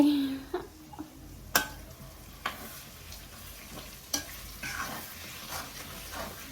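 Egg stir-frying in a pan for Sri Lankan kottu roti, a faint sizzle beneath intermittent clinks and scrapes of a spatula against the metal pan, spaced irregularly, no talk.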